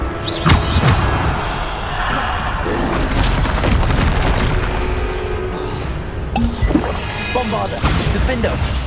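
Bombarda explosion spell cast in a video game, sudden booming blasts that punctuate continuous loud game noise, with a voice talking over them.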